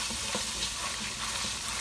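Tomato paste sizzles steadily in a pan on a stove set to medium-high while a Haitian-style turkey wing stew is being prepared, a close, continuous crackling fry with no talking.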